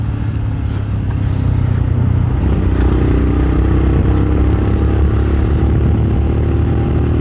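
A Royal Enfield Scram motorcycle rides along a road, its engine a loud, steady low-pitched drone with rough mechanical rumble and wind noise, continuous throughout with no voices.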